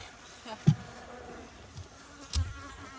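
Honey bees from the Rosemary colony hum around an open hive during an inspection, a steady close buzz with a couple of louder passes as individual bees fly near.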